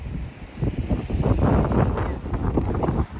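Steady wind buffeting the microphone in Monschau's old town, a loud low rumble that swells and gusts throughout with no voices.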